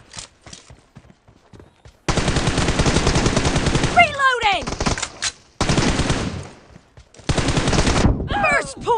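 Automatic gunfire in a video game shooting match, loud sustained bursts of rapid shots with short gaps and some single shots between, heard close with occasional voices underneath.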